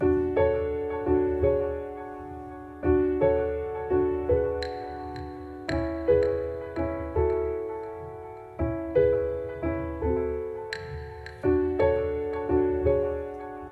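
Piano chords play in a steady rhythm, each note echoing with trailing repeats that layer into a full, ringing texture.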